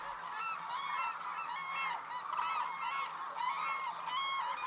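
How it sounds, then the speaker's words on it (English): A dense flock of white-naped and hooded cranes at their Izumi wintering grounds in Japan gives loud, overlapping bugling calls, a continuous chorus of trumpeting cries close at hand. "The few larger cranes seen here are white-naped cranes with wings a lighter"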